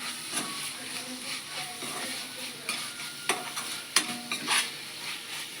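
A spoon stirs rice with coriander in a pan, making soft, irregular scrapes and clinks over a faint sizzle, fairly quiet, while a voice talks in the background.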